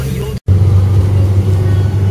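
A car idles with a low, steady engine hum that swells after a brief dropout, sounding close and continuous as it sets off.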